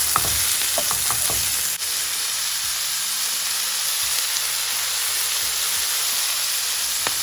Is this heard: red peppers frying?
yes